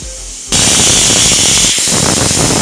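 A pressure cooker cooking Malabar-style chicken curry blasts steam through its whistle weight, a sudden loud, sustained hissing rush that starts abruptly and fills the kitchen, with no talking.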